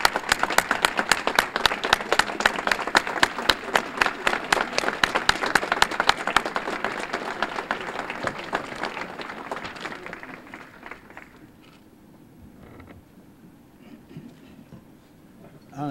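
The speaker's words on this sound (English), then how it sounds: "Let's please give him a round of applause as we welcome him to the podium." An audience welcomes a speaker to the podium with loud, rhythmic applause that stays strong for about ten seconds, then thins to scattered claps and quiet room noise.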